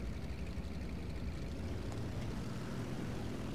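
Loud, continuous propeller-engine drone of a Fw 190A-5 fighter in flight in War Thunder, a dense, steady roar that stays close throughout with no voices.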